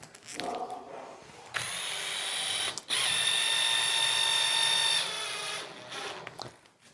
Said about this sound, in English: told me how to use this drill